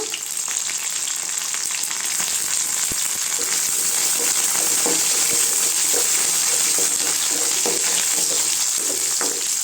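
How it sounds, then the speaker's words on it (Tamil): Onions with curry leaves and coriander sautéing in hot oil for tiffin sambar, a continuous dense sizzle and crackle close by, steady and fairly loud throughout with faint occasional stirring scrapes and no talking. "வெங்காயம் நல்லா வதங்கட்டுங்க எல்லாம் சேர்ந்து நல்லா வதங்கிடுச்சுங்க"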